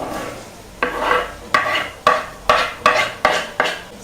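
Sliced onions with curry leaves, green chilli and garlic stirred in a frying pan for a cabbage and egg thoran, a steady sizzle broken by about seven rhythmic scraping strokes of a spoon against the pan.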